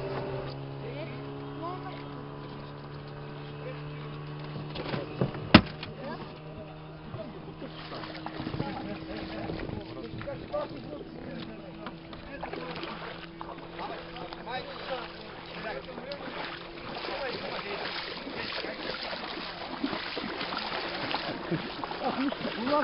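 Heavy, slow motor boat moving on water while stocking catfish at Pyasachnik, a steady low engine drone with wind noise and water splashing throughout, with people talking over it and a sharp knock partway in.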